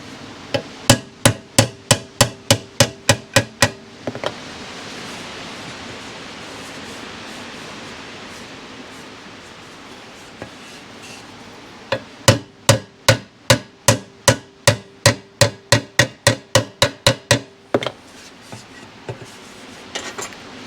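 A hammer beats a dent out of metal on a Yamaha 100 Trailmaster motorcycle, two runs of rapid, evenly spaced loud strikes, about a dozen or more each, separated by a stretch of quiet hiss.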